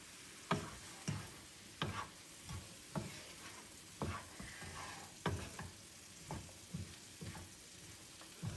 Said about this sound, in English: Now I'm going to be stirring.